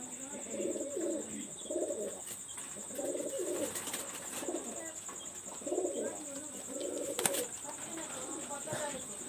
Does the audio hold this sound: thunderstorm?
no